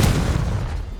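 A deep, heavy boom of the Confringo explosive spell in Hogwarts Legacy, one close blast that fades out over about a second.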